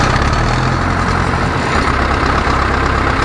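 Car engine raising its revs while the alternator charging is tested, a steady, loud and close low rumble holding throughout with a slight shift in tone partway, no talking.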